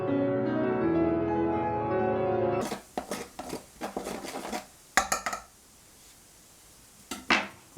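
Fine salt and pepper seasoning mixed in a bowl for a veal roast: a steady tonal whir at first, then a run of light clinks, taps and scrapes, close and fairly quiet.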